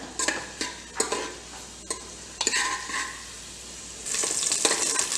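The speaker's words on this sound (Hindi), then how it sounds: "जो अदरक हमने बारीक बारीक काटा है ये भी डाल देते हैं इसमें, और अदरक को गोल्डन ब्राउन होने देंगे" Finely chopped ginger frying in a pan of oil over high heat for chole, with a steady sizzle under scattered spoon-stirring clinks against the pan; the sizzle swells louder near the end.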